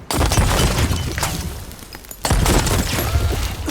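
Loud explosions and heavy booms erupt on a pirate ship in Sea of Thieves, a dense barrage that fills the first two seconds, breaks off briefly, then returns just as loud.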